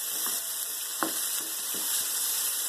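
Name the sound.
food sizzling while roasting in a pan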